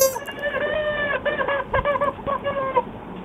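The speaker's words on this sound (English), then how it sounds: "Do you actually have a rubber chicken?" A rubber chicken squawks in a rapid run of strained, honking squeals, close and loud, lasting a few seconds.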